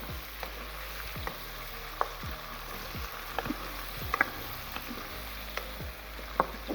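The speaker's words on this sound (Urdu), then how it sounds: "ہماری چکن فرائی ہو گئی ہے پیاز اور تھوم کے ساتھ" Chicken fries in a pan with onion and garlic, giving a close, steady sizzle broken by repeated scraping stirs and light utensil knocks at an even pace, with no voices over it.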